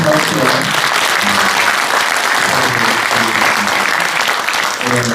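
Loud, sustained audience applause at a book launch event in Daegu, dense clapping from a large crowd continuing steadily throughout with faint voices underneath.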